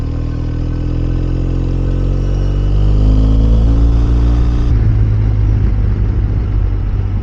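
A BMW R 1250 RS motorcycle with a ShiftCam boxer engine rides along a road, its loud, close engine drone rising in pitch as it accelerates, then shifting into a rougher, deeper rumble near the end.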